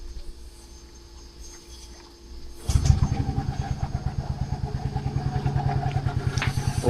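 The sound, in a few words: Yamaha Fazzio scooter engine started and idling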